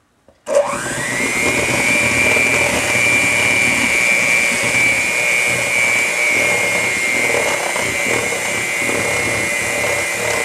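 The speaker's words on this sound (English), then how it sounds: "I'm going to take the mixer and I'm just going to mix this up a little bit." An electric hand mixer whirs continuously at close range, beating chocolate chip cookie dough in a mixing bowl; a steady high motor whine starts abruptly and holds for about ten seconds with no talking.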